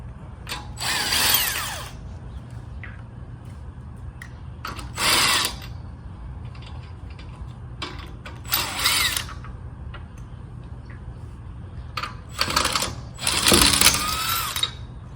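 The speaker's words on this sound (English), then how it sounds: "This impact gun is worth getting out just to save time." Impact gun on the lug nuts of a 2016-2022 Honda Pilot wheel, firing in several short rattling bursts separated by pauses, close and fairly loud over a low background hum.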